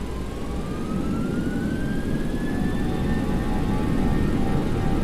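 Boeing 737-600NG jet engines in the X-Plane 11 flight simulator spool up to takeoff power: a loud, steady roar with a rising whine that climbs and then levels off, with no talking.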